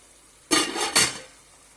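Salt tipped into a pot of boiling water while cooking maloredus, Sardinian gnocchetti: two short, close hissing bursts in quick succession over a quiet background, with no talking.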